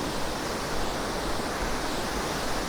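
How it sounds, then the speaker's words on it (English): Fletcher Creek Falls roars as a dense, steady wash of falling water, loud and close with an even broadband hiss and no voices. "And here we have Fletcher Creek Falls."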